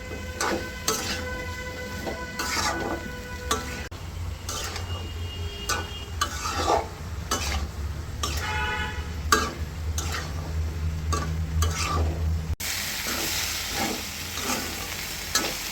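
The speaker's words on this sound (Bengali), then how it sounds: "এর ভিতরে এখন আমি আলু দিয়ে কষাবো" Bean seeds and potatoes being stir-fried in a pan, with a steady sizzle under repeated scraping and clinking strokes of a utensil against the pan, close and fairly even in rhythm.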